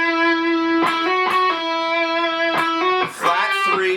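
Overdriven electric guitar rings out a phrase, sustained distorted notes broken by sharp pick attacks and a quick descending run at the end, loud and alone.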